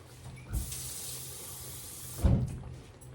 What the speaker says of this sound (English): Just a little bit of water over that.